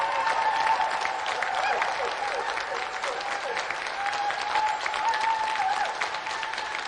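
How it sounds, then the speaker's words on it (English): A TV game show studio audience applauds continuously, a dense wash of many hands clapping at steady strength throughout, with no one speaking over it. "So let's have another round of applause for Carl Roberts and Reza Abdulali."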